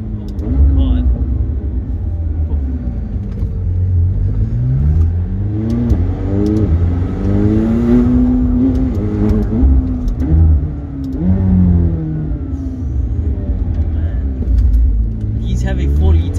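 A tuned 900hp McLaren 720S with a 4-liter bi-turbo engine accelerates hard with quick, short gear shifts, its engine note rising and dropping repeatedly in a loud, close roar while people talk over it.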